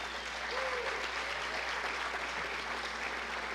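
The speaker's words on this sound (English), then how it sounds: "Let's give all of our coaches a round of applause for all of their efforts." An audience at a university football signing day event applauds its coaches, a soft, distant, even wash of clapping heard throughout.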